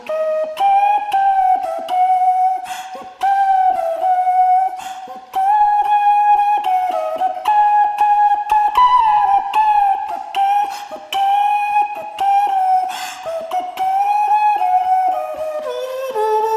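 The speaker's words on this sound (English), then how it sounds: "So there you go, flute." Processed flute parts from a one-man-band cover play a continuous, prominent melodic line with brightened top end, steady and loud throughout with no voices over it.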